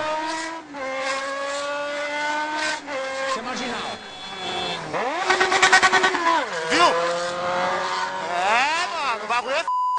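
A motorcycle speeds through São Paulo traffic, its engine whining up and down through repeated revs and gear shifts, close and loud, with wind buffeting and rising pitch sweeps.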